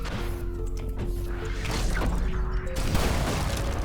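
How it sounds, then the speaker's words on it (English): Explosions from the arc launcher in the video game Ultrakill, loud crashing blasts and whooshes layered over continuous game noise and music for several seconds. "Direct hits on falling enemies will cause a stronger explosion."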